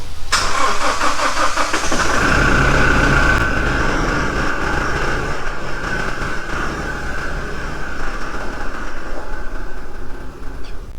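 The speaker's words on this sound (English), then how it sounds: "let's shift the truck out" A truck engine starting and running as the truck is moved out of a workshop in Thailand, a sharp crank and catch followed by a loud, steady mid-pitched idle rumble that slowly eases over several seconds.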